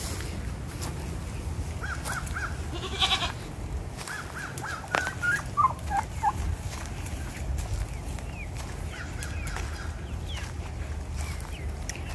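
Poultry raised as meat birds calling on a farm, scattered clucks and squawks in short bursts midway over a steady outdoor background, fairly near.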